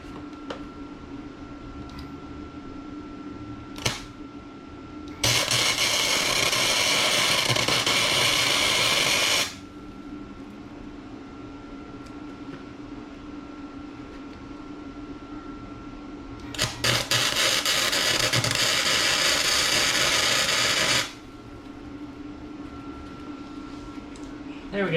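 Tack welding pieces in a garage: two sustained bursts of loud crackling, buzzing arc noise, each lasting about four seconds and separated by quieter shop hum, with a short click or tap before the first.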